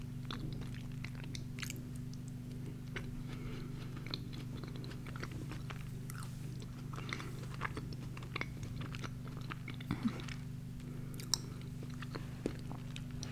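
Mini Crumbl cookies are bitten and chewed close to the microphone, with soft crunches and moist chewing over a faint steady hum.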